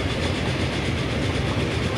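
A train in the video game Transport Fever runs on the rails with a continuous rumbling clickety-clack, steady and close, with no voices.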